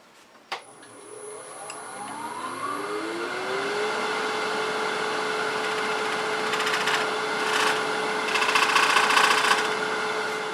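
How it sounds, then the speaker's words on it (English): A lathe spins up to a steady whining hum as a box cutter scraper eases into a box elder hollow form, followed by bursts of scraping as the tool cuts the wood. "So I'm going to use a box cutter that has just a scraper on that side, and I'm just going to ease it up like this."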